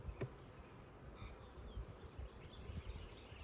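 Honeybees at an open hive on a farm during a Demaree split give a soft, steady buzz, faint and continuous, with no voices.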